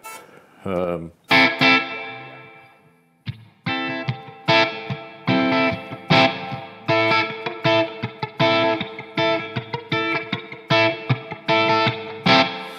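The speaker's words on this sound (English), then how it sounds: "that should be a spring reverb" Electric guitar chords and single notes through a Strymon BigSky pedal's spring reverb setting ring out with a splashy, drippy reverb tail, played in bursts with short pauses between phrases.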